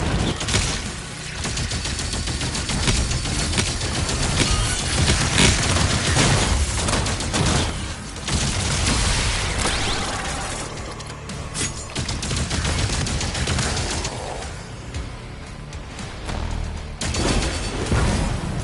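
Gunfire from a shoulder-mounted gun in DOOM: The Dark Ages, a dense continuous barrage of loud shots mixed with booms and crashes, sustained through the whole stretch of combat.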